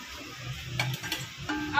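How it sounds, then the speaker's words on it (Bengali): Pipli leafy greens with prawns cook in a pan: a soft sizzle runs underneath while a utensil stirs with a few quick scraping strokes close by. "শাক পাতা রাঁধতে দিয়েছি"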